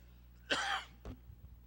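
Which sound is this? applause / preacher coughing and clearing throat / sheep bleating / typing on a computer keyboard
preacher coughing and clearing throat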